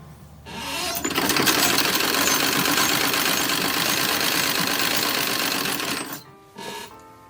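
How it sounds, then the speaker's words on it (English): A sewing machine stitches French seams on 1930s–1940s-style toddler rompers, running in one loud steady whir for about five seconds before stopping, then a brief restart. "So I am French seaming them"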